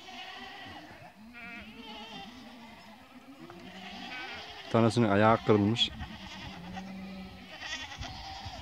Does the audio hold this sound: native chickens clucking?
no